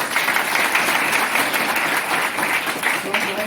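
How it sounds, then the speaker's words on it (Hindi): An audience at a government school event in Bihar claps continuously, a dense, loud burst of applause that holds steady from start to finish, with voices mixed into the crowd noise. "ताली मारो सब।"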